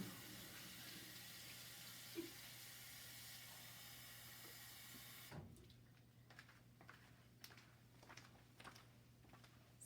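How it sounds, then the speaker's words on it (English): A household toilet flushes with a steady rushing of water, loud and close, then cuts off abruptly into a quieter trickle and faint refill sounds. "And there goes the toilet, folks."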